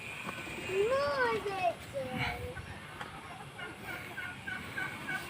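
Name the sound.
chicken being caught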